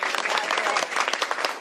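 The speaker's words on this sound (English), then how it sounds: "give him a round of applause as well" A crowd at a governor's bill signing applauds a companion sponsor, a brief, dense burst of clapping from many hands.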